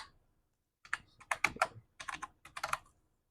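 A mobile number is typed on a computer keyboard: after a short quiet pause, close, crisp keystrokes come in quick irregular bursts with brief gaps between them.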